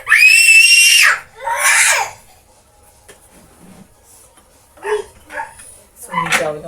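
A child lets out loud, shrill screams in two bursts, then the sound drops away before shorter cries and voices return near the end, close and piercing in a home setting.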